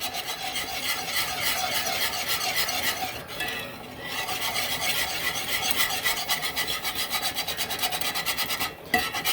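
Whisking pan drippings into gravy in a hot pan, with a continuous rapid scraping and rasping of the whisk and a faint sizzle beneath, briefly pausing twice.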